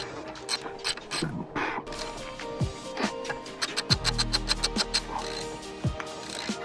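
Ratchet tightening the rear brake caliper bolts on an Acura RDX, a close run of rapid metallic clicks that grows denser and louder toward the middle before easing off.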